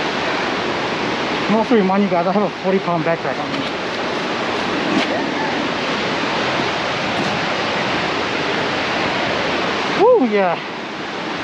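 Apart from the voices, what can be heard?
waterfall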